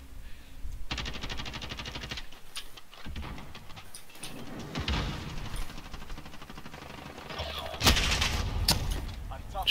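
Rapid automatic gunfire from a shooter video game, bursts of shots and explosive blasts filling most of the stretch, loud and dense, with players chatting over the action.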